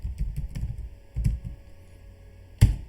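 Computer keyboard typing a short terminal command, with a quick run of close, soft key taps and a louder single keystroke at the end; no talking.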